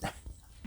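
Ember, a pet dog, lets out a short, close bark followed by a second quick yip, brief and loud, with nothing else heard.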